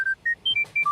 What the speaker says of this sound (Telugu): ఎవరు ఫోన్ రా నాన్న, ఇది డిస్టర్బెన్స్.